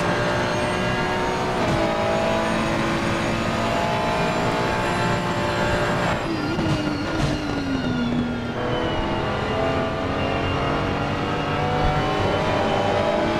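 GT race cars roaring around Silverstone in Assetto Corsa Competizione, a dense, continuous wail of several engines at high revs with shifting pitch as cars pass and gear-change, steady and loud throughout.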